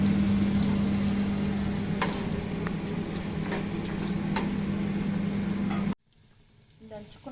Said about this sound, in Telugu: మిర్చి వేస్తున్నాం ఇప్పుడు ఇది కొంచెం గోల్డెన్ బ్రౌన్ కలర్ వచ్చేదాకా ఫ్రై చేసుకొని